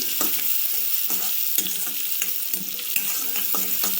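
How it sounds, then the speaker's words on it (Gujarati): Onions fry on a high gas flame in a pan for dhaba-style paneer bhurji, giving a loud, constant sizzle with repeated scraping stirs of a spatula every half second or so, up close and without talk. "ડુંગળીને પણ આપણે આની અંદર થોડી કલર ચેન્જ થવા દઈશું. ગેસને આપણે હાઈ જ રાખીશું."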